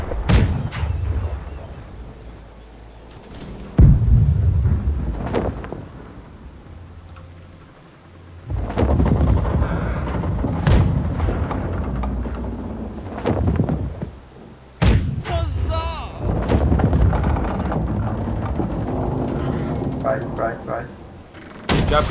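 Heavy booming ship cannon broadsides in a video game go off one after another, deep and rumbling, with shouting voices and crackling noise between the shots.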